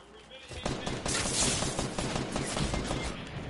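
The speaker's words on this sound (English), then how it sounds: "Someone's trying to shoot me." Rapid bursts of video game gunfire crackle in a dense, loud volley, shots rattling in quick succession over a couple of seconds, with a player's voice over it.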